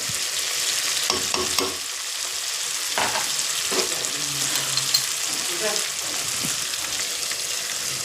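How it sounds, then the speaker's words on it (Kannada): Tomato rice with turmeric frying in a pan gives a steady, close sizzle, broken by scraping strokes of a spoon stirring through it. "ಟೊಮೆಟೊ ಚೆನ್ನಾಗಿ ಫ್ರೈ ಆಯಿತು. ಇವಾಗ ಅರಿಶಿಣ ಆ್ಯಡ್ ಮಾಡಬೇಕು."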